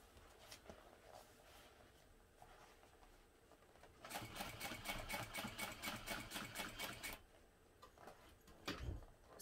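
Home sewing machine top stitching a seam on a Rossatron bottom panel, a steady rapid mechanical whir with ticking needle strokes, quieter at first and then running faster and louder for several seconds before easing off.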